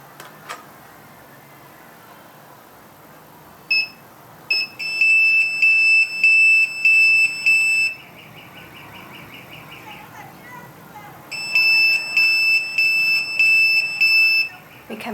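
A Retekess TD167F restaurant pager beeps in rapid repeated bursts of high-pitched tones, a short initial chirp followed by two long runs of pulsing beeps separated by a quiet gap.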